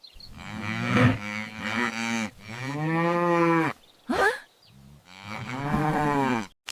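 A cow moos loudly and close in several long drawn-out calls with short gaps between them, each low, resonant and wavering, with no other sound around them.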